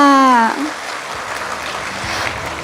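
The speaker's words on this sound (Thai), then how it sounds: "ขอเสียงปรบมือด้วยค่ะ" Audience applause at an award ceremony at Kalasin University, rising as a speaking voice ends and continuing as a steady, dense wash of many hands clapping for the rest of the moment.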